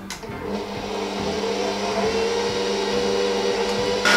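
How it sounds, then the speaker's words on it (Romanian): A planetary stand mixer with a paddle beats gingerbread dough, giving a steady motor whir that rises slightly as it starts up and runs on evenly, with a brief louder surge at the end. "Aduc planetarul și să înceapă distracția."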